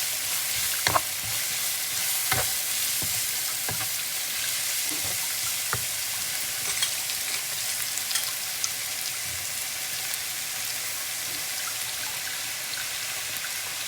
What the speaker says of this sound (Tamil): சிறு வச்ச பீட்ரூட்டை இப்போ போட்டு கிளற வந்துருக்கேன்.